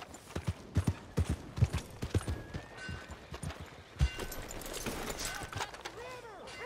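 Horse hooves clip-clop at a steady walking rhythm in the Red Dead Redemption 2 video game, close and clear, with some background game ambience and a faint voice later on.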